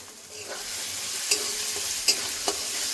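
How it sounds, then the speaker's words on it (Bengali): Poppy seeds (posto) frying in oil in a pan for Bengali aloo posto, a soft steady sizzle with a few sharp scraping clicks of a spatula stirring, close and quiet with no talk. "পোস্তগুলো ভালো করে ভেজে নিয়েছি, তেল বেরিয়ে গেছে,"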